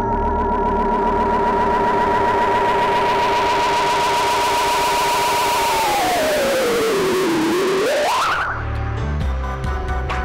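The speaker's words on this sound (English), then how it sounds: "you could actually get EchoPad to self-oscillate like a real tape echo or analog delay will by just raising the feedback level above the white line here" EchoPad delay plugin pushed into self-oscillation by raising its feedback, a loud sustained harmonic drone that holds steady, then bends downward and sweeps back up before cutting off into scattered repeats.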